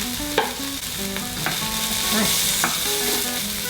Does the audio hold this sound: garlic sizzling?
yes